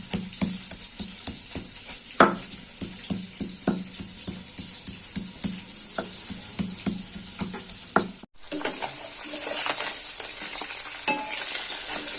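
Tangra fish frying in hot oil, a steady sizzle with repeated sharp knocks and scrapes of stirring running through it, briefly cut off near the end before the sizzle returns louder.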